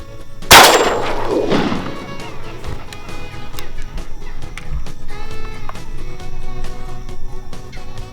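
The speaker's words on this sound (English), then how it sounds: "I'll shoot that right one." A single loud gunshot from a hunting shotgun goes off close by early on while hunting gallinules in Florida, its blast ringing out and decaying, followed by ongoing outdoor background noise with faint clanks.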